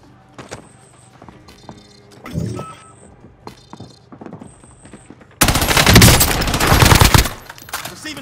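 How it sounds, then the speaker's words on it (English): Hostile gunfire in the video game Plunder: scattered game effects and short clatters give way to a loud, dense burst of rapid automatic fire lasting about two seconds. "Receiving hostile fire."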